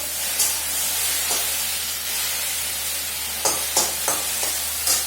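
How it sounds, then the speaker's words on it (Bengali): Steady frying sizzle and hiss from okra in a pan, with a few brief clinks and stirring scrapes near the start and toward the end. "এখানে দেখো যে ভেন্ডি ভাজছি"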